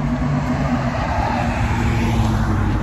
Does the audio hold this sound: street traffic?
yes